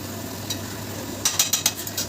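Chicken chaap frying in a pan and being turned over, a soft continuous sizzle broken by a quick series of metallic scrapes and taps from a spatula.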